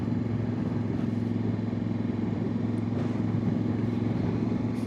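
A Voge DS625X motorcycle out on a ride, its engine giving a steady, continuous drone at close range with no voices over it.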